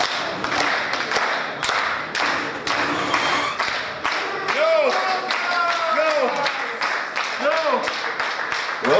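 Scattered clapping and crowd noise from spectators at a West Coast Wrestling Company heavyweight championship match, with rhythmic hand claps and occasional thuds under a commentator's continuous talk.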